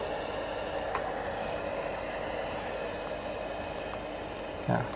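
Aircraft engine noise inside the cabin in the flight simulator Infinite Flight: a steady, muffled, even drone that holds unchanged throughout, with a faint thump at the end.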